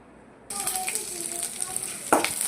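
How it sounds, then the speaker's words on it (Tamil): Mustard seeds tempering in hot oil in a kadai: the oil sizzles and crackles steadily after a sudden start, with small pops and a brief louder burst near the end. "கடாயில் கொஞ்சம் எண்ணெய் ஊற்றி லைட்டாக தாளிக்க வேண்டியதான்"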